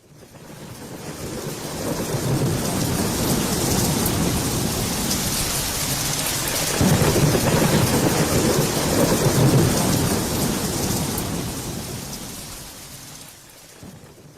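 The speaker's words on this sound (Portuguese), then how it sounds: "Barulho de chuva forte." Heavy rain pours steadily with rolling thunder, a dense, loud wash that swells after a few seconds and holds before easing near the end, with no voices.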